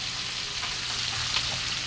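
Continuous crackling sizzle of food frying in hot oil, steady and close, with no voices.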